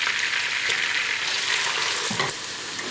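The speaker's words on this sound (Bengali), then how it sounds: "আমি পেঁয়াজটাকে বেশি ভাজতে চাই না" Onions frying in melted butter in a pot for Bangladeshi shahi chicken biryani, a steady close sizzle running throughout with a few soft stirring scrapes near the end; no talk.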